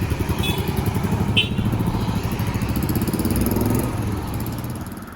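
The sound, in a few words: motorcycle exhaust thump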